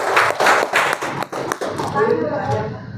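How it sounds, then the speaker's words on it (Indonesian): Audience clapping fills the first second and a half of a writing class, loud and close, then thins out as a voice talks over the tail end. "Tepuk tangan boleh,"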